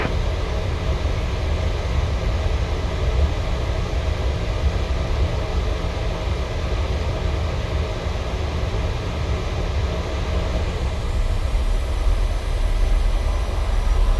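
Steady loud roar of a Boeing 737-800 engines spooling and running at takeoff power in a PMDG flight simulator, a constant broadband rush with no voices.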